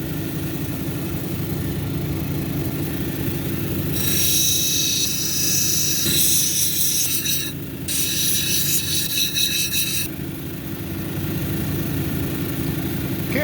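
A blue lace agate cabochon is ground on a 220 grit wheel, heard as a harsh, rasping grind that starts partway in, pauses briefly, then resumes, over the steady low hum of the running machine.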